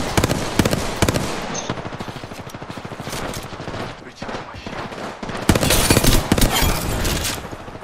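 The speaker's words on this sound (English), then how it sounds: "you just keep shooting" Rapid bursts of gunfire in the Apex Legends video game, dense and continuous with many sharp overlapping shots, swelling louder toward the end.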